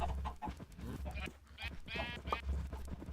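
Several sheep bleat in a video game, a few overlapping calls in quick succession, close and moderately loud, with a steady low hum beneath.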